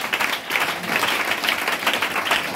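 A church congregation claps and cheers together, a dense and steady burst of applause from many hands filling the room, with no single voice standing out.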